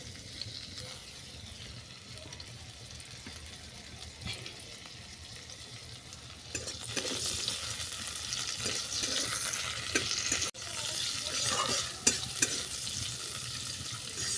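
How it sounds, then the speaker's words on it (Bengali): Chopped onions dropped into hot oil for a Bengali stalk chachchari, a steady crackling sizzle with occasional stirring scrapes that grows louder and brighter partway through. "তেল গরম হয়ে যাওয়ার পর দিয়ে দিলাম কুচানো পেঁয়াজ"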